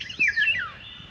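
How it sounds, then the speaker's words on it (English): A male bird sings its territorial song outdoors among rocks and wild plants, a couple of clear, loud whistled chirping phrases sweeping up and down, close by and alone over faint background. "I'm teasing this bird."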